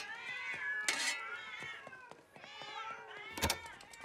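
Animated cartoon cats meow and caterwaul in high, wavering cries that overlap and rise and fall, with a few sharper yowls standing out over about four seconds in a house setting.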